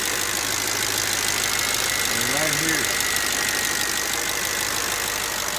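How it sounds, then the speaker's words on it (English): A 2007 Mercedes ML500 petrol engine idles with a steady, noisy, diesel-like clatter, close and continuous throughout, while a person speaks briefly over it. "Sounds like a diesel engine, but I know it's not."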